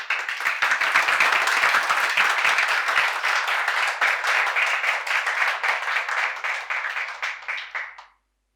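Audience clapping at an open-mic poetry night in Lucknow, a dense steady burst of many hands that holds for several seconds, then thins and stops abruptly.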